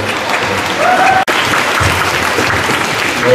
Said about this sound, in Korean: 네, 박수로 맞아주세요.